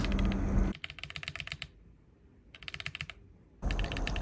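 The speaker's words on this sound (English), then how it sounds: "I like the clicky sound of the brown switch, which is slightly louder than scissor keys." Typing on a Keychron Q11 split mechanical keyboard with brown switches, two close bursts of rapid, crisp key clacks separated by a short pause, with louder handling noise at the start and end.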